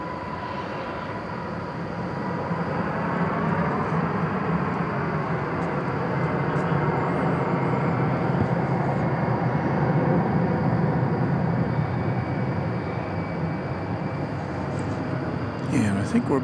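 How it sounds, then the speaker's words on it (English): An Airbus A321 jet arriving from Las Vegas touches down at DFW airport with a rising, sustained engine rumble and roar at moderate distance, while a person talks over it. "Touchdown from Las Vegas, flight 1494, an Airbus"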